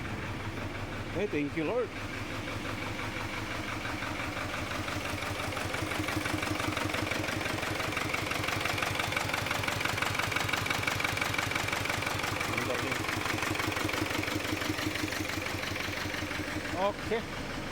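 A Kia Carnival engine after a timing belt change cranks and catches, then idles steadily at moderate volume with a rhythmic mechanical clatter, while a person speaks briefly near the start and end.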